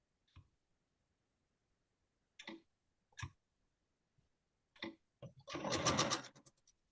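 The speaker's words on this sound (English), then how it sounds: "I'm chain sewing on these half triangles" A sewing machine chain sewing half-square triangles for a quilt block, with short separated clicks and a few quick bursts followed by a sustained whirring run of stitching, close and quiet with no talking.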